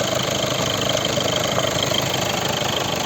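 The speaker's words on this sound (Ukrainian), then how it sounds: "Ось робота двигуна." A 2015 VW Golf VII GTD with a 2.0 TDI diesel engine idles steadily, a close, even diesel rumble with a light clatter and no talk.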